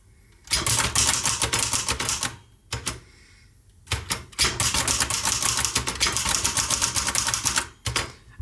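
Rapid clattering keystrokes from an Empire Aristocrat typewriter, a Hermes Baby-style portable with a lift-up paper bail, typed in close, loud bursts with two short pauses and a few isolated clacks.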